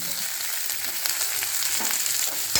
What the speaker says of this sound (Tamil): இல்லை இந்த மாதிரி கருவேப்பிலை பொரியணும்